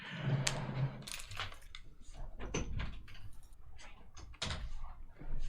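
A house door is opened to let a cat out, giving a series of clicks, knocks and handle clunks at close range, with a faint rumble and rustling in between.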